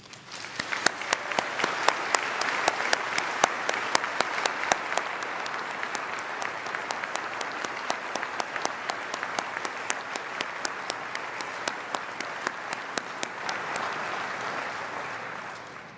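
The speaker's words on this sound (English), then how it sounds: "Please join me in thanking them with a well-deserved round of applause" A large graduation audience claps steadily in a university ceremony hall, sustained even applause with a few sharp individual claps standing out, lasting over fifteen seconds.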